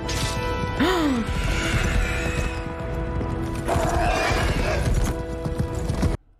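Steady clip-clop of galloping hooves with a loud horse whinny near the start and clattering, crashing noises throughout.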